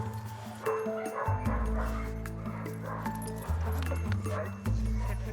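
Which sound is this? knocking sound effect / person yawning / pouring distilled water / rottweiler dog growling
rottweiler dog growling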